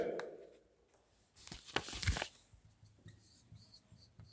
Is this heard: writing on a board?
yes